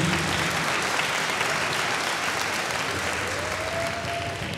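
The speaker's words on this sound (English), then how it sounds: "Also, another warm round of applause for Mr. Tom Lyle and Prince Marshall for bei" Warm round of applause from a crowd at a high school band pyramid event, steady continuous clapping throughout, fairly loud and close, with a faint whistle-like tone rising near the end.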